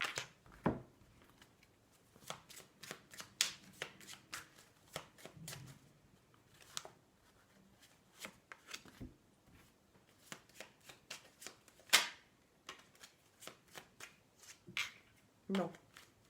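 Tarot cards are shuffled by hand in quiet, intermittent riffles and slides of card stock, close and soft, with a person speaking between the shuffles.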